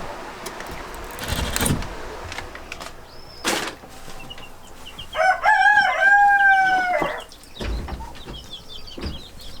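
Orloff chicks and chickens in a coop, with a rooster crowing loudly near the middle, scattered clucks and chirps around it, and brief rustling thumps before the crow.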